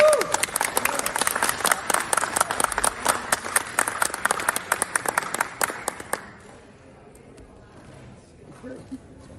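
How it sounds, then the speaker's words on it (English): Hearing-room audience at a congressional UAP hearing breaking into applause, crisp rapid clapping from many people for about six seconds before it fades out into quiet room tone. "They get a good applause"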